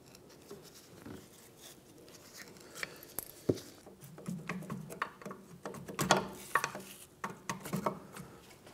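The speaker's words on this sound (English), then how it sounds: "We're going to use a pry bar in here and just try and work our caliper out." A pry bar works a brake caliper loose on a 2011-2016 Hyundai Elantra, making faint, irregular metallic scrapes and clinks. They grow busier and a little louder toward the end.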